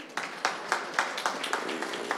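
An audience claps at a startup pitch event as a team is welcomed on stage. The claps are fairly faint and fall in a steady, evenly spaced rhythm of about four per second, with no talk over them.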